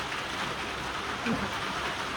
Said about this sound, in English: you're gonna hear the rain on the roof